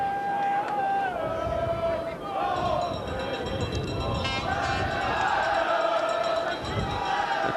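Football stadium crowd at a 1993-94 Portsmouth v Middlesbrough match, a broad sustained roar of cheering and chanting that rises and swells, with a match commentator talking over it throughout.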